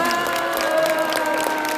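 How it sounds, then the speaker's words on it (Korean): A crowd at a YouTube forum event claps steadily, a full, even roar of applause with a faint cheer mixed in, sustained throughout the short stretch. "다시 한번 목사님께 큰 박수 부탁드리겠습니다."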